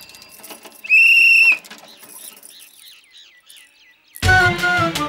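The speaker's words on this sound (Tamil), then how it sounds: "இது என்ன? விசில்." A whistle is blown in one loud, steady shrill blast lasting about half a second, followed by quieter chirping tones and then a burst of louder, mixed sound at the end, with no speech.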